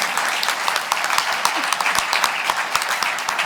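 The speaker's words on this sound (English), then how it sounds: "Give me a round of applause, please." An audience claps steadily at a tech industry talk event, a continuous round of applause with crisp individual claps standing out near the microphone for a few seconds.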